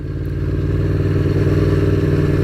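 A loud Aprilia V4 Tuono Factory motorcycle engine drones and pulls steadily, its deep rumble rising slightly as it accelerates, close and continuous.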